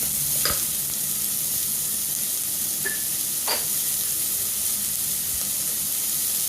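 Onions sizzle steadily in a pan for a raw jackfruit sabji, with a constant frying hiss and a few brief clinks of stirring, close and moderately loud with no talk.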